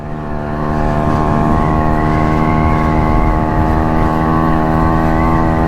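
A Yamaha YG-1 Trailmaster motorcycle engine drones at full throttle while riding, a loud, steady buzzing tone held without a break, heard close up with wind rush around it.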